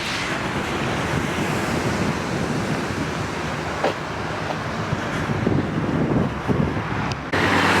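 Ocean surf at Pismo Beach rolls in a steady roar along the shore, mixed with wind buffeting the microphone and a few brief knocks as someone walks along a fence line, no talking.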